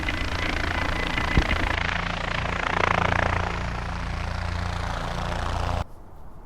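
A helicopter's rotor and engine drone steadily, loud and broadband, swelling slightly midway before cutting off abruptly near the end.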